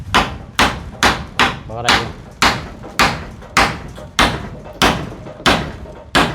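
A hammer drives nails during kitchen construction, with about a dozen sharp, evenly spaced blows ringing out close by and a brief word spoken between strikes.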